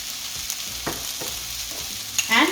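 Red chilies frying in a pan for garlic fried rice give a steady hiss of sizzling oil, stirred with a couple of soft scrapes and a louder crackling burst near the end.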